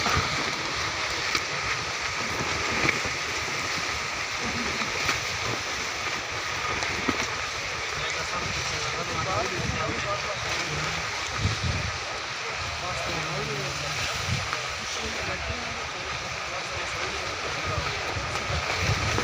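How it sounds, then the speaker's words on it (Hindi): A night-time windstorm at the Raiwind religious gathering roars steadily and loudly throughout, a dense unbroken rush with gusty fluctuations and no clear pauses. "बहुत तेज़ हवा चल रही है।"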